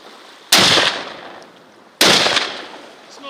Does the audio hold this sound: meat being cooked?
no